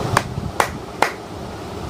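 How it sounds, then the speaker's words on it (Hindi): Three sharp hand claps, evenly spaced about half a second apart, close and crisp over a low room hum, given as a bedtime cue to put a young child to sleep. "आपने 3 ताली लगा करके लाला को सुलाना है"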